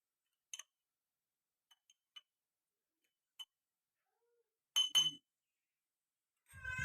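A spoon stirs a kokum drink with sugar, salt and water in a glass, making a few faint, scattered clinks separated by near silence, with a louder rattle near the end.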